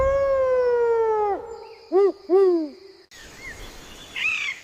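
A series of animal hoots: a long descending hooting tone, then several short, rising-and-falling hoots in quick succession, followed by fainter, higher calls over background noise.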